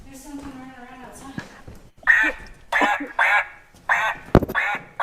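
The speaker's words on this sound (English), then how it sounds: "There's the duck." A duck quacks outside on a patio, a series of five or six loud, nasal quacks in an uneven rhythm, heard close after a brief moment of voices at the start.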